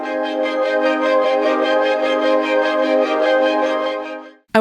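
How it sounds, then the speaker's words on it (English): A sustained synthesizer pad chord holds steadily for about four seconds with rich, layered harmonics, then drops away briefly before a short new attack at the very end; no voices. "I have here a pad sound"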